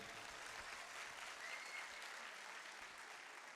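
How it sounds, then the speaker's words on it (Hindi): Faint, distant applause from an audience at a poetry gathering in an arts council hall, a steady even patter of many hands that continues without a break. "इसके लिए तालियां बजा दीजिए"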